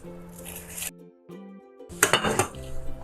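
A fried beetroot and bread cutlet is cut on a plate, with a couple of close cutlery clinks and scrapes against the plate, some louder and denser scraping near the end, and no talk.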